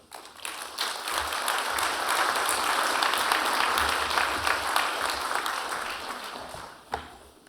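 Warm applause from a university fall convocation audience welcoming a guest speaker, dense steady clapping that swells quickly, holds for several seconds, then tapers off into a few lingering claps.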